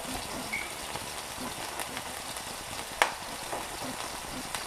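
Ground beef and onions fry in a hot pan, a steady dense sizzle with crackling splatter throughout and one sharp pop near the middle, close and fairly loud.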